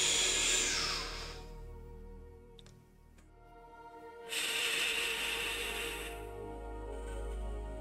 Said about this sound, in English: Close your right nostril and start breathing and smiling.